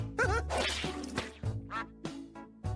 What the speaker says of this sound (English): Well, that's a duck